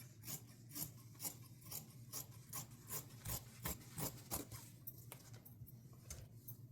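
Scissors cutting through blouse fabric, a quick regular series of close, quiet snipping and rasping strokes with a faint hum underneath.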